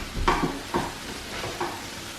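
Asparagus cooking in a pan on the stove, with four short bursts of sizzling and stirring scrapes over a soft, steady frying hiss.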